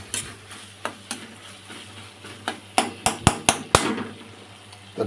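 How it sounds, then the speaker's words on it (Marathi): Five eggs are cracked one after another into a hot pan for egg bhurji, with a series of sharp taps and knocks. A low steady sizzle runs underneath, and the strikes come faster and louder toward the end. "अंडी फोडून टाकली आपण."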